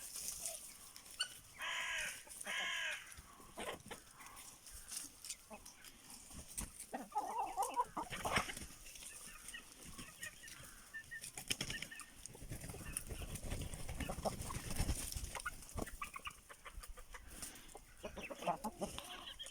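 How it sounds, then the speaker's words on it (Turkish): Aseel chickens cluck and squawk with a rooster crowing now and then, a busy farmyard chorus close by with scattered knocks and rustling. "Tavuklar oyun oynuyor."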